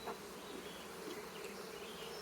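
A steady, dense buzz of many honey bees at a hive, close and continuous, with no voices.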